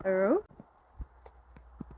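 A ridden horse's hooves thud in a slow, uneven walk, soft and close, during riding practice on bending and shoulder release; a brief voice sounds at the start.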